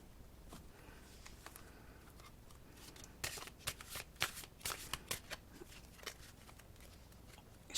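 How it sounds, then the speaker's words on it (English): A deck of tarot cards is shuffled nearby: soft sliding at first, then a run of quick riffling flutters and light snaps. "Shuffle them a little bit more."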